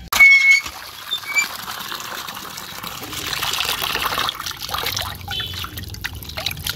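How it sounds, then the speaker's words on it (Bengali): Running water while tangra fish are washed in a kitchen: a steady, moderate trickle and splashing, with a louder splash at the start and small drips and rattles throughout. "আমি এখন মাছগুলো খুব সুন্দর করে ধুয়ে নেব"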